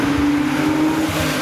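A 2012 Porsche Carrera 911 on a testing drive, its engine a loud, steady, rumbling roar with rushing wind throughout the short stretch.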